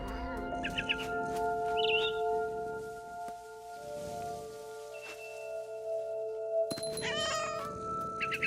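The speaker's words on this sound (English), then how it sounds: "And suddenly, I was a cat." A cat meows and caterwauls repeatedly in the video game What Remains of Edith Finch, close and clear over soft rain and a sustained musical drone.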